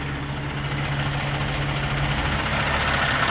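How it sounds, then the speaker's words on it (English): Cummins X15 600 hp diesel idling in a 2013 Kenworth T660 tow truck, a steady deep low rumble with an even hum, close and loud throughout, no speech. "I'd love to see the motor, the engine. It's a Cummins."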